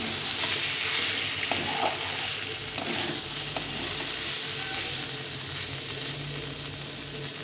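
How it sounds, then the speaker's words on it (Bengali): Spice paste for a kohlrabi curry being stir-fried in a pan, with a steady sizzle and the scrape of a spatula stirring throughout, close and fairly loud, with no talking. "মশলাটা কষিয়ে নিয়েছি ভালো করে।"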